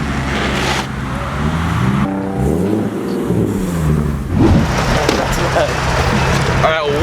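A car fitted with a new, very loud aftermarket exhaust revs up close, its engine climbing and dropping in pitch while people talk over and between the revs.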